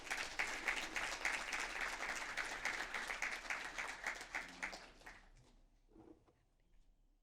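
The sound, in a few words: audience applause at a city council meeting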